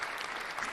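Applause from an audience gathered at a live happy hour stream, a dense, steady wash of clapping that fills the short moment at moderate loudness without any voices.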